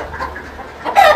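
Desi hens of RIR and Australorp breeds cluck on a farm, a few soft low calls followed by a louder, sharper squawk near the end, close by.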